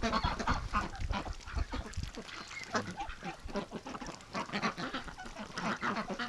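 Breeding ducks, among them Rouen ducks, quack and call in a dense, overlapping flock, loud and close throughout with little pause.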